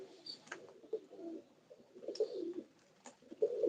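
Domestic pigeons, including a fancy breed kept at home, give soft low cooing calls in short bursts, with brief higher chirps in between. They sound fairly close and moderately quiet, and no one speaks.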